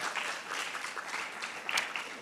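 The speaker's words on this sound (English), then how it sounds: "So I just would give a round of applause." A smaller audience claps for an unveiled board at a university World Mental Health Day event, with light scattered applause and a few sharper claps over a short stretch.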